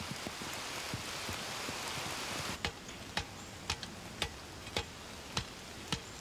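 Rain falls on mud in a steady, close hiss, and from midway a series of sharp ticking drips lands about every half second. No one speaks.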